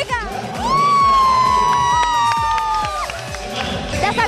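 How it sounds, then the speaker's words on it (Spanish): A party crowd at a lingerie show in a bar shouts and cheers in one sustained loud roar, with a long rising whoop carried over pounding music. "¡Un grito, chica!"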